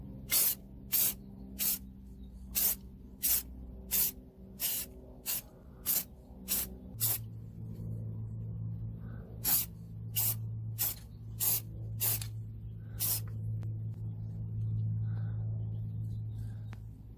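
Spray paint can coating a custom motorcycle exhaust, a run of short sharp hissing bursts in a steady rhythm, close and loud over a low background hum.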